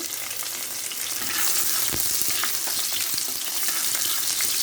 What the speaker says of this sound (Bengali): এখন তো পেঁয়াজ দিয়ে দিচ্ছি